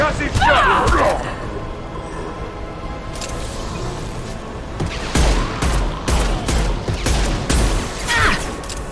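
A concussive shot fires in a video game amid rapid bursts of weapon fire and heavy impacts, loud booms and crackles repeating over a dense battle ambience, with voices speaking over the action.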